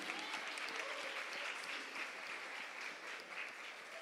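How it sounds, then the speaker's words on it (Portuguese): A church congregation applauds in praise, steady dense clapping filling the room from start to finish with no voices. "Você pode aplaudir o Senhor pela vida da Mariana?"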